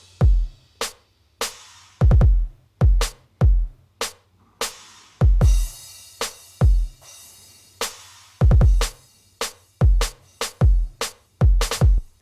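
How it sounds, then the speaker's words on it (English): A full electronic drum track for the song, with punchy kicks, layered snare hits, a reverb-heavy clap and bright crash cymbal washes, playing alone in a steady driving rhythm up close. "the drums for this part sound like this"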